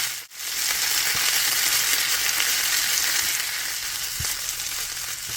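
Green chillies and fresh mint leaves sauté in hot oil with mustard seeds for a coconut chutney, giving a loud, continuous close-up sizzle with a faint stir or clink near the end.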